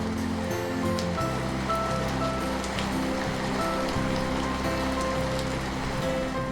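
Steady rain falling in the Lake District in the height of summer, a continuous even patter with a low hum underneath and no voices.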